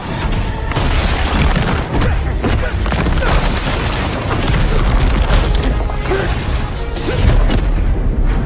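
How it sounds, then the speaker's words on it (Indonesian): Heavy booms and crashing blasts roll through a film fight scene, dense and loud with repeated impacts layered over a continuous rumbling roar. "Ledakan energi, bentrokan kekuatan, dan dentuman jurus-jurus maha dahsyat mengguncang seluruh penjuru tanah."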